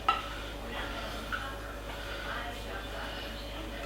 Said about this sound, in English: So I'm going to scrape this out. Get the pot as clean as I can.